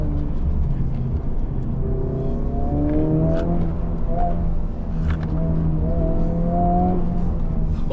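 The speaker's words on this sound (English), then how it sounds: "Oh, the engine is more urgent now." Engine of a Honda Civic Type R FL5 on a mountain road in R mode, a steady loud drone inside the cabin that rises in pitch through two pulls, with road rumble underneath.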